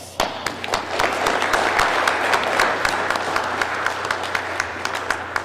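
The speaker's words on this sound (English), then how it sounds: "Let's give him an applause." An audience at a Martin Luther King Jr. presentation breaks into sustained applause, a mix of scattered sharp claps over a steady wash of clapping, with a low hum beneath.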